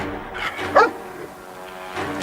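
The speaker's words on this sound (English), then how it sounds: "The shooting may have agitated Hebbel's dog" A single dog barks once sharply, with a few faint yelps around it, fairly close and clear against a quiet background.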